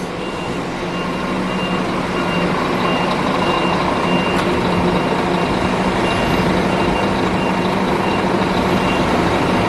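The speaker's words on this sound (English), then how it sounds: "Is that a battery bus?" A battery electric bus in Taiwan emits steady reversing beeps over a continuous loud hum of traffic and engine noise, heard up close without talk.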